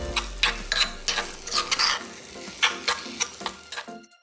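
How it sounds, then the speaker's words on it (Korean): Doenjang, ssamjang and chili powder seasoning paste stir-fried in a pan, loud close sizzling broken by rhythmic scraping strokes of a spatula, continuous for a few seconds with no talk. "된장 1스푼, 쌈장 1스푼, 고춧가루 1스푼 넣고 2분 정도 볶아서 양념 다대기 만들고"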